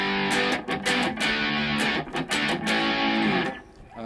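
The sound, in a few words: electric guitar through distortion effects pedal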